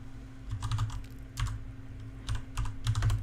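Someone types on a computer keyboard with long fingernails, producing clicky, uneven bursts of keystrokes separated by short pauses, close and clear over a faint steady hum.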